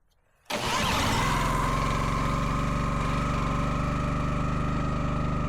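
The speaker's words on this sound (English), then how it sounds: "let's start the log splitter" A log splitter's engine kicks in abruptly after a brief quiet moment, then holds a loud, steady mid-pitched drone with a constant rhythmic pulse, close to the listener with no talk.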